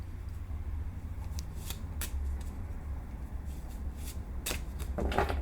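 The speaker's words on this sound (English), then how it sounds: "We're going to shuffle a little bit more." Tarot cards shuffled by hand in a quiet room, giving soft, steady riffling and brushing with a few sharper snaps, close and fairly faint, with no talking.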